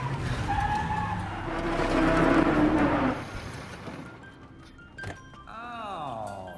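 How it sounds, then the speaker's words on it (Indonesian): A car in a movie scene accelerates hard and strikes a motorcyclist, heard as a loud rushing engine and skid that swells and fades, then a brief thunk followed by a rising, whining motor tone. "Ia lalu tancap gas dan menabrak Ilsa kemudian pergi begitu saja."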